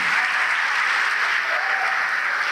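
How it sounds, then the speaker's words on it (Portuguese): A church congregation claps steadily in praise, a dense, even burst of applause filling the room for a couple of seconds without voices over it. "E vamos aplaudir o Senhor"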